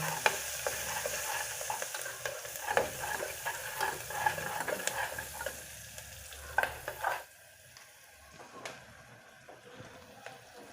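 Onions sautéing in a pan for aloo matar curry, a steady sizzle broken by repeated scraping stir strokes, loud at first and then dropping to a quieter, sparse crackle.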